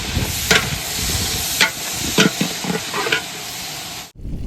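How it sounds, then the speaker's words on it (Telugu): Onions and green chilies sizzle in a pot while a spoon stirs them, giving a steady frying hiss with several scraping strokes before the sound cuts off abruptly. "ఇప్పుడు వచ్చేసరికి ఉల్లిపాయలు పచ్చిమిర్చి వేసేసుకున్నాం. ఇవి వేసుకొని ఒకసారి కలుపుకుందాం."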